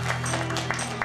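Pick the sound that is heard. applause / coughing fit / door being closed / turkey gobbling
applause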